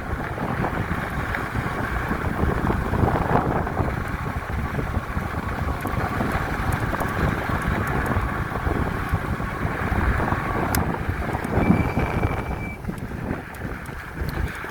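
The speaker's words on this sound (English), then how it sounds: "you guys will be able to hear me over the wind" Strong headwind roaring across the microphone while riding a Swagtron electric bike, a steady broadband rush with gusty buffeting throughout and no voice.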